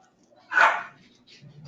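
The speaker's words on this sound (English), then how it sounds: "you guys can hear my dogs probably arguing in the background" A single sharp dog bark rings out at a distance in a quiet room, followed by faint low grumbling, as if dogs are squabbling in the background.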